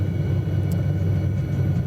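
Continuous low rotor-and-engine rumble of a helicopter in Microsoft Flight Simulator 2020, steady and close in cabin, with a faint brief click midway and no speech.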